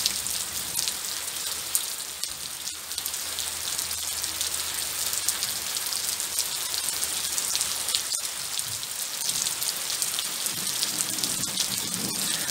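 Rain falls steadily on a hard surface, a constant hiss with close drips and patters scattered through it.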